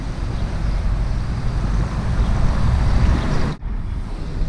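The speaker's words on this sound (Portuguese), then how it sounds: "Muita água. Bem alto o rio." Swollen river after heavy rain in Pomerode, Santa Catarina, running high and full during a flood, a steady broadband rush of water with wind buffeting the microphone, loud and continuous with a brief dip near the end.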